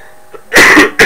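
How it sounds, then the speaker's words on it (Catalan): One short, harsh cough bursts out close and loud after a moment of near quiet, followed by the start of a second cough. "Disculpeu per la tos."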